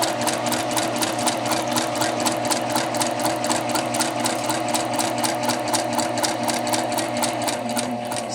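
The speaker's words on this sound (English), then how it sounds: "I can pivot and then I'll stitch down the rest of this leg" A sewing machine runs steadily, stitching a contour dart on fabric at number 2 stitch length with no backtacking; a fast, even needle rhythm continues throughout, close and clear, with no talking.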